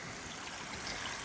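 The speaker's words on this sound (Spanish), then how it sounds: "Por aquí también baja agua." Stream of water running through a forest after days of storms, a steady close rushing and trickling wash, brief and fairly faint with no voices.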